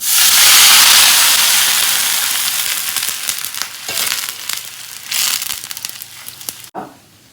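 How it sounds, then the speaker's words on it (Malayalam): Water poured into a hot pan of fried ginger and green chili with the stove just switched off, erupting in a loud steaming hiss and crackle that gradually fades, followed by a few clinks near the end. "അടുപ്പ് ഓഫ് ചെയ്തിട്ട് ഈ വെള്ളം ഇല്ലേ നമ്മൾ വെള്ളം അതിൽ വെള്ളം കുറവാണല്ലോ ഈ വെള്ളം ഇതിലേക്ക് ഒഴിക്കാം"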